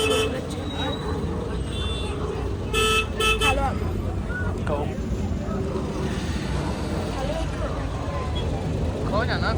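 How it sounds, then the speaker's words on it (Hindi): Car and bus horns toot repeatedly in a traffic jam in Srinagar, short honks rising over steady road noise, with people talking nearby. "देखो ट्रैफिक में भी वो हम फंस गए हैं, बाहर ट्रैफिक लग गया है।"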